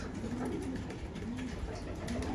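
Pigeons coo softly in repeated low calls, with a steady outdoor rustle and hum underneath and no one speaking.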